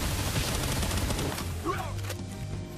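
Rapid gunfire in a video game boss fight, a dense, continuous stream of shots filling the clip at steady loudness, with no clear pauses between bursts.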